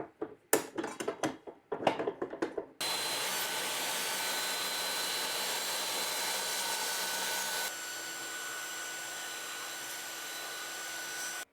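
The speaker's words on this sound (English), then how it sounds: "That insert cut through pretty clean." A Bosch GTS15-10 table saw slices through an insert plate: a sharp clatter of bumps first, then a loud, steady high-pitched whine of the spinning blade that drops to a lower, slightly softer hum partway through.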